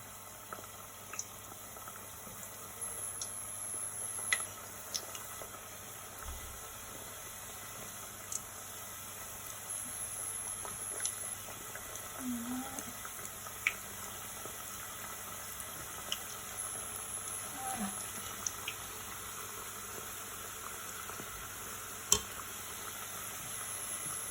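Langue d'oiseau pastries fry in very hot oil, giving a soft, continuous bubbling hiss with a few faint pops, quiet and close, with no talking.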